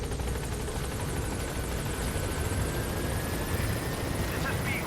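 Helicopter arriving at a landing zone in Metal Gear Solid V, its rotor thrum and engine whine loud and continuous with a rising tone as it approaches.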